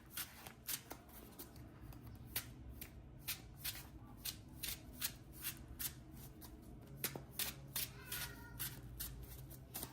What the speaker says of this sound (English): Gonna shuffle the deck up.